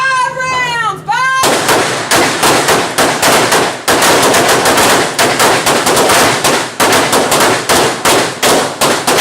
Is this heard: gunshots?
yes